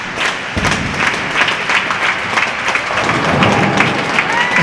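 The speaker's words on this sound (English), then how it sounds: "And you can hear them clapping for Danielle." Applause from an arena crowd at a women's bowling championship title match, a dense steady wash of clapping lasting throughout with scattered thuds and a faint voice in the background.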